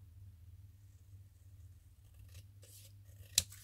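A single sharp scissor snip cuts through a paper decoration near the end, set against a steady low room hum and faint handling rustles.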